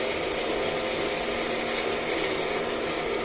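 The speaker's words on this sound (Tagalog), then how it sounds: "So nagbabago-bago pa yung andar ng pump." Vacuum pump motor of a BMT Sterivap 6612 autoclave running while steam is let in, a steady broadband whirring drone with faint hum, close and continuous with slight unevenness, no voices.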